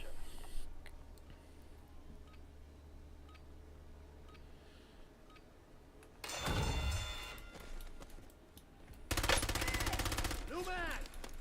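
Gunfire in the Warzone video game comes as two loud bursts of shots from about six and nine seconds, standing out over quieter in-game ambience with faint ticking sounds.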